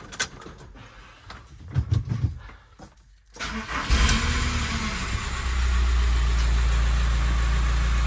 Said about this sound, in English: Okay, I think we better warm the van up.